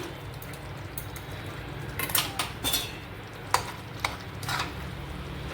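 Crumbled chhana (paneer) being stirred into a simmering capsicum curry in a pan, with a spoon clinking and scraping against metal in a few scattered bursts over a low background hiss, close and quiet with no talking.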